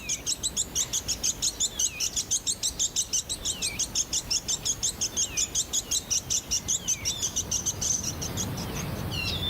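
A Bonin white-eye on the Ogasawara Islands repeats loud, high territorial chirps in a rapid, steady series, with sweeping call notes mixed in, close and clear against a quiet background.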